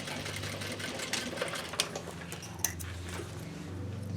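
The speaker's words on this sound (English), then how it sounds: "And sew my waistband right there" Sewing machine stitching across a denim jeans waistband, a fast continuous motor hum with rapid needle chatter and a couple of sharp clicks, close up and with no talking.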